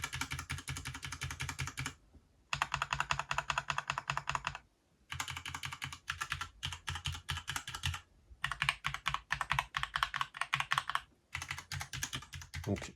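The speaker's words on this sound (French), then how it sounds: "Donc là, je vais vous faire voir les différents sons de ces claviers." Typing on ASUS ROG Strix Scope II keyboards: dense, steady key clatter in several bursts separated by short pauses, close and alone with no voices.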